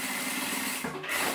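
Sewing machine stitching a zipper to synthetic fabric with nylon 60 thread and a size 16 needle, a steady close whirring hum throughout with a slight dip in the middle.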